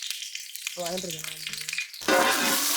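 Fennel seeds dropped into hot oil for a village-style field crab fry, a steady close sizzle with a brief tonal hum in the middle, then a louder, brighter surge of frying.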